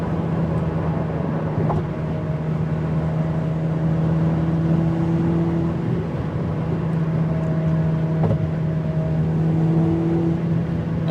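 A Ferrari 488 Pista's turbocharged engine and exhaust drone loudly from inside the cabin, holding steady tones with subtle rises in pitch and occasional pops between shifts.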